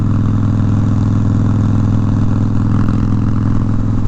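A Suzuki DRZ400 motorcycle engine with an aftermarket exhaust runs steadily close by, a loud, even, throbbing idle that never changes throughout.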